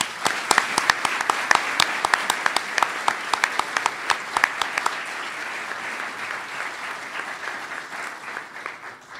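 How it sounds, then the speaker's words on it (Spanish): At an architecture lecture session honouring Javier Sordo Madaleno, a few crisp, separate claps quickly swell into full audience applause. The dense, even clapping carries on for several seconds before easing slightly. "Un aplauso, por favor."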